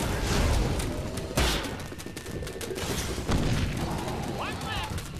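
Gunfire in the virtual reality game Sam & Max: This Time It's Virtual, with loud overlapping shots and booming thuds that run continuously under voices talking.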